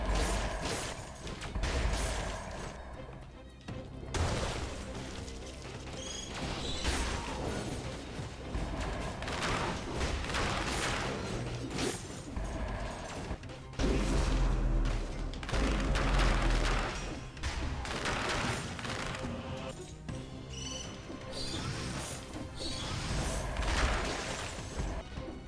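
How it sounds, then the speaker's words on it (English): Dense stretch of action-game combat from Dead Cells, with bats bursting into a string of explosive booms and crashes layered over mechanical clatter and steady game music. "All the bats exploded."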